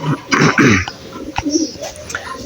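Pigeons coo in soft, low, throaty bursts close by at their home coops and nests, with a few rustles and flutters between the calls.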